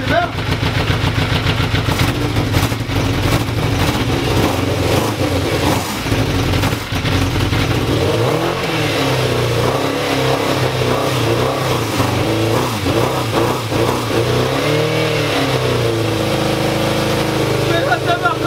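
Motorcycle engine running loud and close, with repeated revs rising and falling over a rough, sputtering idle and brief dips, filling the whole stretch with no break.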